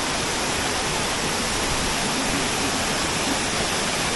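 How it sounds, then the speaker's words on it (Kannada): Monsoon waterfall on the Kodachadri trek, a loud, steady, unbroken roar of rushing water heard up close. "ಸೊ ಇದು ಫಾಲ್ಸು"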